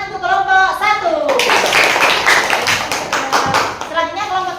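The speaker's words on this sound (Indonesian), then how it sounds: "Tepuk tangan untuk kelompok 1." Students in a classroom clap together for a group presentation, a loud, short round of hand claps lasting about two seconds, framed by a voice talking before and after.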